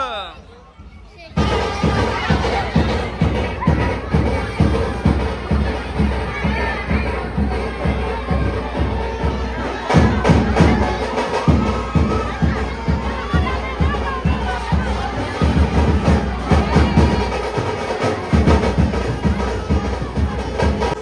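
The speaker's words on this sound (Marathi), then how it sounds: "गाईस जल्लोष भरपूर आहे आणि सर्वजण खूप एन्जॉय करतात आईच्या पालखीला." A large crowd of devotees at the Ekvira palkhi procession from Kopra village cheers and shouts loudly and without pause, children's voices rising through it over a pulsing festive din.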